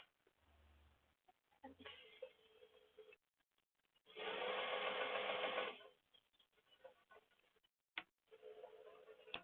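A sewing machine stitches a zipper pocket into a leather tote in short, close bursts of rapid stitching separated by pauses, with one longer steady run in the middle and a few light clicks.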